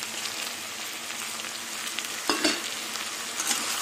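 Shrimp fry with potatoes and onions in a pan, a continuous close sizzle with a brief scrape of stirring midway.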